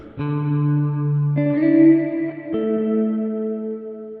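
Sustained electric guitar chords ring out drenched in lush, wet reverb, three notes changing slowly with long shimmering tails.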